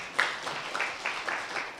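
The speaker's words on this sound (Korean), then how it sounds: "박수." A congregation at a church small-group seminar applauds, with a short run of fairly distinct, moderately loud claps rising and falling in a loose rhythm, and nobody talking over it.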